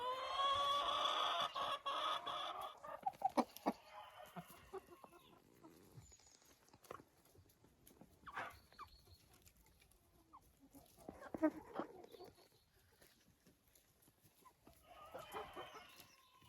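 Hens clucking inside a chicken coop in winter, a loud burst of busy clucking and crowing up close at first, then scattered calls coming and going against quiet.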